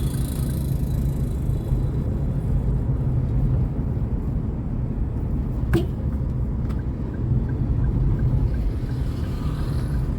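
A car accelerates steadily up to 60, heard from inside as a constant low engine and road drone with no clear gear changes, fairly loud and unbroken throughout.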